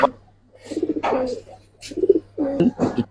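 Silver khaki pigeons coo at close range in several throaty, rolling bursts separated by short pauses, with a faint steady hum underneath.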